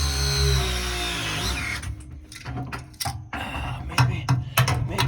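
A wrench ratchets as a gas line fitting on a water heater is tightened, a drawn-out hiss giving way to a series of sharp, close clicks.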